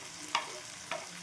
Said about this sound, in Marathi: याला पण छान परतून घ्यायचं.